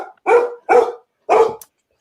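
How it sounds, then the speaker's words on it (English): A pet dog barks three times in quick, loud, close bursts, with a short pause before the last bark and no talk around it. "That's my dog."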